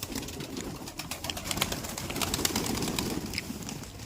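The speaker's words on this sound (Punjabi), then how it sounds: "ਚਲ ਠੀਕ ਹੁਣ ਛੱਡਦੇ ਆ ਆਪਣੇ ਕਬੂਤਰਾਂ ਨੂੰ" Pigeons coo softly and steadily in a continuous murmur, with a few flutters of wings mixed in, fairly close and with no talking.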